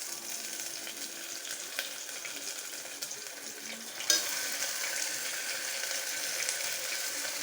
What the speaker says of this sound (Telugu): కొంచెం గోల్డెన్ ఫ్రై అయినాక కదా ఇప్పుడు కొంచెం ఒక స్పూన్ అల్లం వెల్లుల్లి